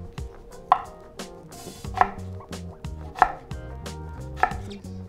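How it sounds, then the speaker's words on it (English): A knife chops through butternut squash on a board in a run of sharp, evenly spaced strikes, close and distinct over quiet background music. "Then stack the slices, cut those into strips"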